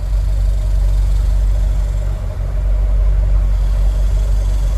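A C4 Corvette engine idles while parked, giving a steady, loud low rumble that holds without change throughout, with no talking over it.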